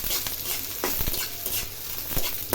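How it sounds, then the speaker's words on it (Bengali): Onions frying in hot oil in a pan, a close, steady sizzle with repeated scraping strokes of a spatula stirring them. "এই যে তেল বসাই দিচ্ছি, এখন পেঁয়াজ দিব।"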